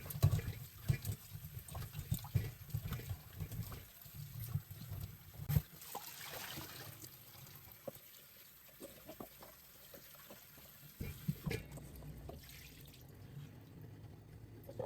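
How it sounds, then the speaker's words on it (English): Water trickling and splashing intermittently as sorrel is rinsed with water and a little vinegar, soft faucet-like streams and drips close by, fairly quiet, in bursts with brief pauses. "I'll rinse them with a tip of vinegar"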